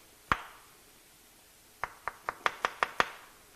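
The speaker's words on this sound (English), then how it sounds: "So you just want to slice them nice." A sharp knife slices baby portobello mushrooms on a cutting board at home: one knock, a pause, then a quick run of seven crisp, evenly spaced chops, close and clear with no talk.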